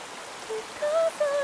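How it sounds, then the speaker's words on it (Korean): Sudden heavy rain pouring down in a forest, a dense steady hiss of drops striking surfaces at close range, with a few faint high tones drifting over it. "웬 비? 뭐야, 갑자기 막 쏟아지네."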